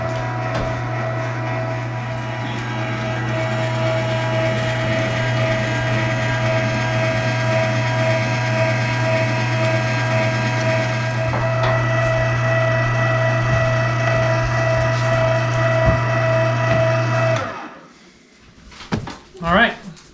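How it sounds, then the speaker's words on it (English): An electric meat grinder runs steadily, fine-grinding venison through a fine plate for summer sausage, with a loud continuous motor hum that stops abruptly near the end, followed by a few faint clunks. "Alright, so that is done with the grinder."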